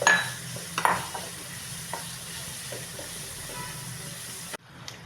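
Onion stirred and sautéed in hot oil in a home kitchen while making sweet corn upma, a steady soft sizzle with intermittent scraping stir strokes, fairly close, ending abruptly near the finish.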